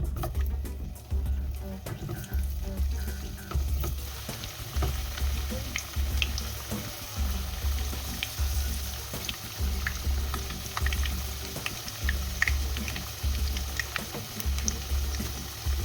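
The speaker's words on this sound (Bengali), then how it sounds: "প্রথমে আলুগুলো এই তেলে একটু ফ্রাই করে নেব" Potatoes fry in hot oil in a kadai, a continuous close sizzle broken by regular rhythmic scraping pulses of stirring roughly every second.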